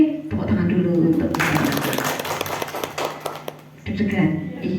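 An audience at a seminar in Semarang, held for new PPPK government contract staff on values and ethics, claps for a few seconds. Voices talk before and after the applause.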